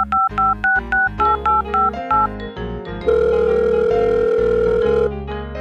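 Telephone keypad dialing for a prank call to Domino's Pizza: a quick series of about ten short, evenly spaced touch-tones, followed by a steady, loud ringback tone.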